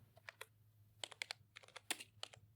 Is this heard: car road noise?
no